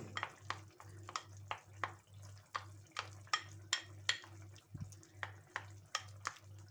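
Steady rhythmic stirring of flour and water into beef for goulash, a repeated scraping and sloshing stroke roughly every half second over a low hum, fairly quiet and close.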